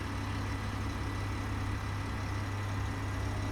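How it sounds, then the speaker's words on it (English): Steady low engine drone from a vehicle in the Space Engineers video game, heard from the interior view as a constant humming rumble with no change in pitch or speed, fairly quiet and unbroken. "Despite the engine noise and being able to see the engine."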